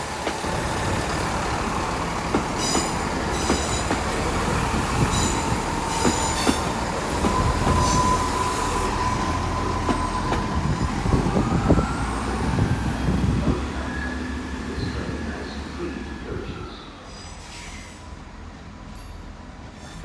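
A class 212 train rolls through Exeter St Davids station, with a rumbling drone, rhythmic wheel clatter and high squealing from the wheels that builds and then eases as it passes, fairly close and with no talk.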